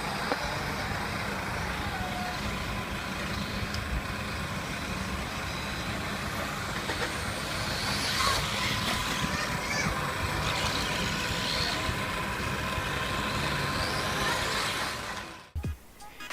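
A small radio-controlled car drives on its own for about fifteen seconds, a steady whirring motor drone with broad road-like noise, then cuts off abruptly near the end.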